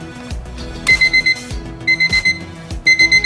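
A BTS merchandise alarm clock rings in short repeated bursts of bright electronic beeps, loud and close, in groups of quick pulses with brief pauses between.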